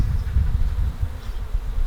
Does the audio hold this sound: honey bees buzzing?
yes